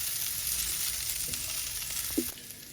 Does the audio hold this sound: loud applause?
no